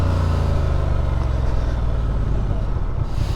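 A Honda Transalp XL750 motorcycle engine revs through gear changes made with a quickshifter, a dense low close rumble that holds steady with small surges in pitch.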